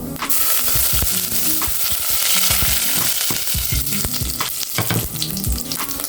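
Half a teaspoon of mustard seeds fries in hot oil for murunga rasam. The sizzle is loud and continuous, with crackles and pops and occasional stirring scrapes, and no voices are heard.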